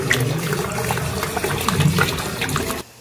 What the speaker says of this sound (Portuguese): ou se é por meio de queda d'água.